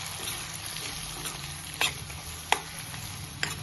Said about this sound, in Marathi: आता आपण याला छान मिक्स करून घेऊया.